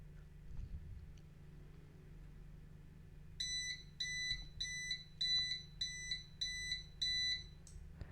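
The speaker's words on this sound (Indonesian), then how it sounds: "Lalu buzzer akan nyala dan lampu juga akan nyala." An Arduino gas leak alarm buzzer sounds in a rapid series of about eight short, shrill beeps with harmonics. The beeps start partway through and repeat steadily over a low background hum.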